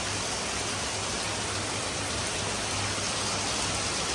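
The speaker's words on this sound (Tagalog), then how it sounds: "Sobrang lakas ng ulan." Heavy rain pours down on a house compound, a dense, loud, unbroken hiss of falling water with no pauses or voices.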